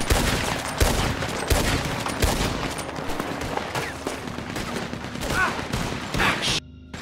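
Rapid overlapping gunshots from a Red Dead Online shootout, sharp reports piling up near and far in a continuous volley before cutting off abruptly.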